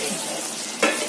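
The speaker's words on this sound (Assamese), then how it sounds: "পিয়াজখিনি ভাজিব লাগিব যেতিয়ালৈকে ৰঙা নহয় তেতিয়ালৈকে ভাজিব লাগিব ভালকে" Onions frying in a pan for chicken biryani, a dense, continuous close sizzle with a brief louder scrape of stirring near the end.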